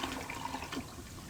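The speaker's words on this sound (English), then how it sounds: "That's the longest flushing sound." A toilet flushes in the horror video game Harvester, a steady close rush and gurgle of water running through the whole stretch with no talk.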